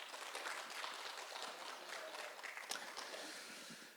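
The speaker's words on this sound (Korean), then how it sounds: "좋은 강연을 해주신 김민덕 교수님께 다시 한번 박수 부탁드립니다." Audience applause after a special lecture at a museum, fairly faint, dense clapping sustained evenly throughout with no talk.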